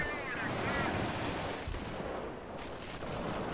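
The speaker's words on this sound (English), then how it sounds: "I'm not too happy about those mortars coming at my Sherman's man" Dense World War II gunfire and mortar blasts from the video game Company of Heroes, firing at Sherman tanks and tank destroyers. The sound is a continuous loud wash of shots and explosions with no pause, and a faint voice can be heard under it.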